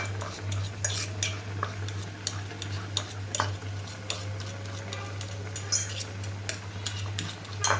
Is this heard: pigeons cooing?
no